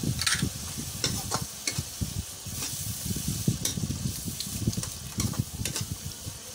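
Whole spices, including cinnamon stick, star anise, and green and black cardamom, sizzle and fry in hot oil while being stirred in a pan for mutton pulao, with scraping stir strokes over a steady hiss.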